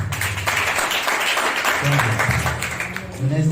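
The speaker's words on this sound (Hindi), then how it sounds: "एक जोरदार ताली बजाइए" Clapping from a church congregation breaks out after a prayer, a brief steady burst of many hands with a voice talking over it.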